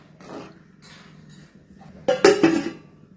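A lid clatters onto a metal pot of brinjal gravy (ennai kathirikai kulambu) on the stove, giving a short burst of clinks and rattles near the end after a quiet low hum of cooking.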